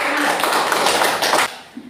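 Students clap for a presenting group in a chemistry classroom, a brief burst of dense close applause that tapers off after about a second and a half.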